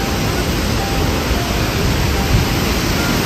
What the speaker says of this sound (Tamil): நல்ல நீரோட்டம் இருக்குது.